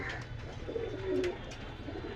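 A pigeon coos softly nearby in a pigeon shop, a short low warbling call over a faint background hum.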